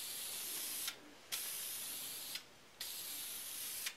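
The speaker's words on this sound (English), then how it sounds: "So you can see, I keep the can moving the whole time, and I don't want to spray it too heavy." Aerosol spray can laying down a light, even coat of paint for sign making: close, steady hiss in three long bursts separated by brief pauses, with no talking.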